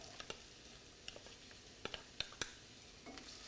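Zucchini for a frittata starts to fry in a pan with a soft, steady sizzle, while scattered light clicks and taps from stirring break through every second or so.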